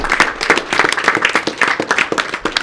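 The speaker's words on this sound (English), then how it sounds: "give a round of applause" An audience stands and applauds at a chiropractic student event, with brisk, dense clapping from many hands close by, steady and lively for the whole stretch.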